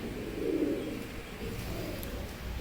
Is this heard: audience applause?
no